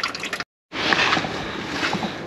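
Warm engine oil pouring out of the drain of a C7500 dump truck engine, a steady close splashing trickle that runs almost continuously after a short silent gap.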